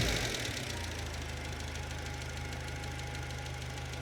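A 1972 Plymouth Cricket engine idles steadily with a low, even rumble and a faint knock, heard up close and alone after a brief louder surge at the start.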